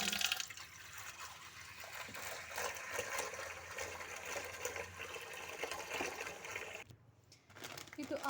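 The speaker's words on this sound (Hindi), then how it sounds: "चले जी चावल को भिगोते हैं" Water poured over rice in a container to soak it: a steady close gushing splash from a tap fills the bowl, broken by a short pause near the end before the flow resumes. A voice is heard briefly under the water.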